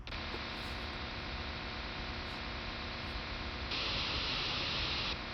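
A steady, featureless digital radio signal hiss received on a software-defined radio, with a low hum underneath, turning brighter and harsher partway through. No voices.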